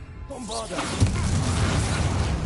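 Bombarda blasting spell in Hogwarts Legacy: a rising, warbling magical whoosh builds, then a heavy boom bursts out about a second in and rolls into a sustained rumbling aftermath.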